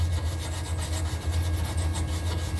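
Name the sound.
brushing welding slag off steel frame patch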